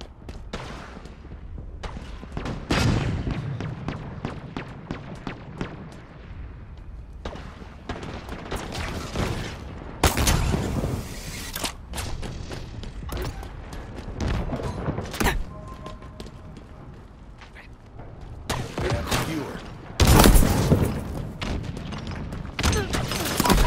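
Repeated gunfire and explosive booms during a chaotic Halo Infinite Super Fiesta match, dense loud shots and thuds layered throughout with brief voice callouts.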